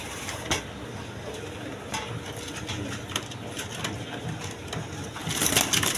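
A pair of black-and-white Rasgolla pigeons with leg tags coo steadily against a noisy, hissing background, the sound swelling louder toward the end.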